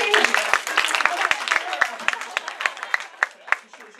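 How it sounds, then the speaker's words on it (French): Audience at a French-language lecture applauding, a dense burst of hand claps that gradually thins out into scattered individual claps, close and without talk over it. "Je ne cherche pas les applaudissements du tout."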